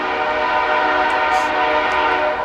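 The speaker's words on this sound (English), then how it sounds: "That's a train going by in the backyard." A train rolls by behind a backyard, a loud sustained rail rumble with faint horn tones riding on top, no voices.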